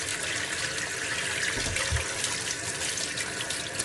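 Washing something under a running kitchen tap, likely after it has been rubbed with flour dough: a steady, fairly loud gush of water flowing into a sink throughout, with no talk.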